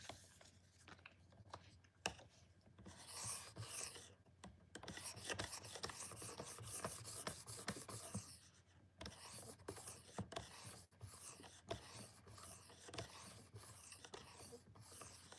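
Metal shavings are wiped off a knife during sharpening, giving faint, close rubbing and scraping with scattered ticks and clicks throughout, quiet and irregular.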